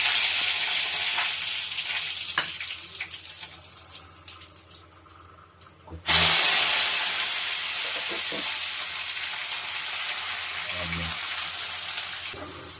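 Vegetable curry with garam masala, curry leaves and rock salt frying in oil: a soft sizzle fades, then bursts loud and close as ingredients hit the pan, settling into a steady crackle.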